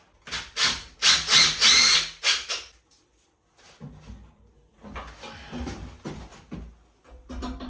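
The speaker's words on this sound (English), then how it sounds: "What we need to do is just drill our holes, 4 holes, and get the brackets on place." Bursts of a power drill whirring in short runs, drilling bracket holes in a bathroom, loud and close, followed by quieter tool handling and bumps.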